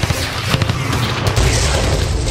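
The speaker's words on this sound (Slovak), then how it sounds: "strašne tu všetko strieľa" In a war zone in Israel, gunfire and explosions thunder as a dense series of heavy booms and sharp cracks, loud and close, with a sustained rumbling roar.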